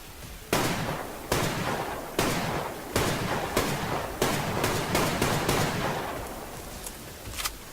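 Rapid SKS rifle shots in the Survarium video game, a string of about a dozen sharp, loud cracks fired at an uneven semi-automatic pace with short decays between them, heard alone.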